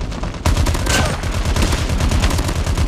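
Gunfire in a Call of Duty video game: a sudden loud onset followed by a rapid, sustained string of sharp shots, close and dense, with no talk over it.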